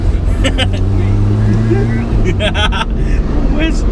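Inside a Vauxhall Chevette with its standard 1256cc engine, a steady close-up engine drone shifts pitch as the car changes into second gear around a corner, heard under people talking.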